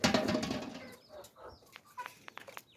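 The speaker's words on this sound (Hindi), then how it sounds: "और वो दड़बे हैं उसमें असील मुर्गा, असील मुर्गा मुर्गी" Aseel rooster and hens in a coop on a home poultry farm, giving a few short, soft clucks and scattered faint calls after a burst of louder noise, fairly close but quiet.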